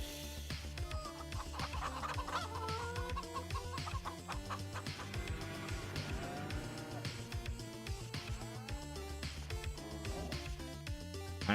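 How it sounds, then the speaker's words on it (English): Chickens and roosters clucking in Farming Simulator 25, several birds sounding overlapping, busy clucks over a steady low background hum with no voices. "That's 2 roosters I bought there."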